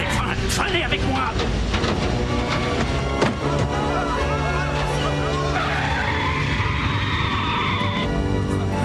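An airplane braking and skidding while landing in a TV drama, a long harsh screech of tires over a steady rumble, with a sharp thump partway through and a rising whine later, while people talk urgently over it.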